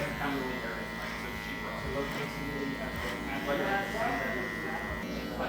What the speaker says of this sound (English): I like to use clipper over comb for this part of the haircut